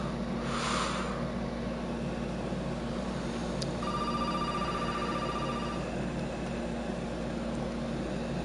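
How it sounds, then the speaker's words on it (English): A telephone rings inside the Resident Evil 7 horror game played in VR, a thin electronic tone heard over a steady low in-game drone with a brief earlier whoosh. "Phone's ringing."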